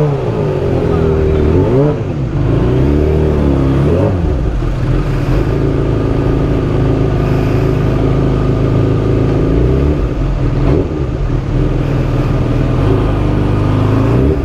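Engine and traffic noise heard from a Kawasaki H2 Carbon 2022 supercharged motorcycle riding in rainy traffic, a steady drone with rising and falling revs, loud and close, under occasional talk.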